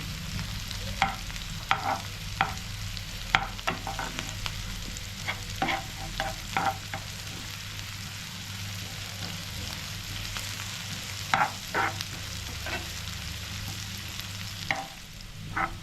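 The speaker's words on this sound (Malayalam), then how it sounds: "ഇത് നമുക്ക് വഴറ്റാം നന്നായി" Sliced shallots sauté in hot oil in a pan for a papadam stir-fry, a steady close sizzle broken by repeated scraping stirs of a spatula at an irregular rhythm, with no voices.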